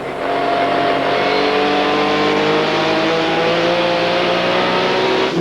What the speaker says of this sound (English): You hear Holshausen feathering the gas there, staying on it